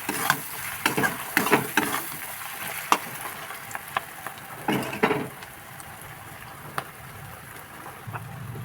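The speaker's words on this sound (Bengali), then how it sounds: "এবার ভালো করে মিক্স করে মশলাটা কষিয়ে নেব।" Masala spices for a Bengali chicken curry being stirred and fried in a pan, a soft steady sizzle under irregular scraping strokes of a spoon against the pot, close by, with louder bursts of stirring early and midway.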